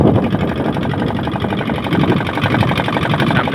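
A trawler boat's engine chugs steadily on a river, a loud, continuous rhythmic throb that stays close and constant throughout.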